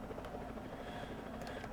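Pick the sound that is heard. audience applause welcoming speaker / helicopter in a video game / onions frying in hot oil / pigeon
helicopter in a video game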